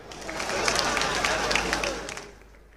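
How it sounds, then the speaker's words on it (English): A crowd applauds with a sustained wash of clapping that swells and then fades over a few seconds, with some cheering mixed in. "a round of applause for him"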